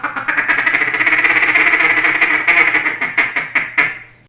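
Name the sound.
duck call feeding call imitating mallards on the water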